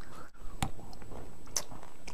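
Someone bites into a raw cacao nib chocolate bar and chews it, with a sharp snap and then crunchy chewing close to the mic.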